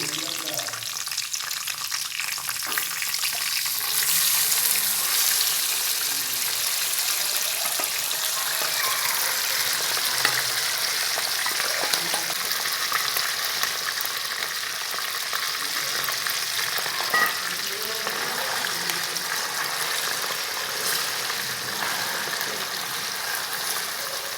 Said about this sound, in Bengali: এবার আমি এই যে ভাতটাকে এর মধ্যে দিয়ে দিচ্ছি